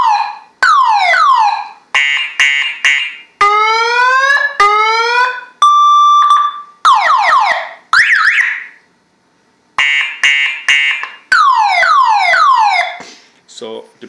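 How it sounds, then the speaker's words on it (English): A siren built into a PC case mod and set off by buttons cycles through rapid electronic wail, yelp and steady tone patterns in loud bursts with brief gaps, close and clear. "I can actually control the siren here as well."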